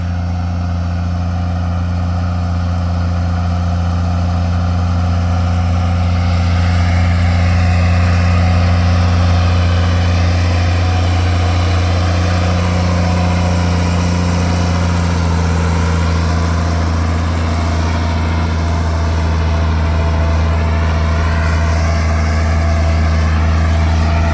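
A large Ford TW-20 tractor's 145-horsepower engine runs loudly and steadily nearby, a deep rumbling drone that rises slightly midway as the revs increase.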